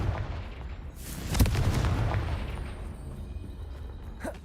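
Confringo fire spell blasting in the Hogwarts Legacy video game at a poacher camp, a loud booming explosion rising at about a second and a half and rumbling on, with a smaller burst near the end.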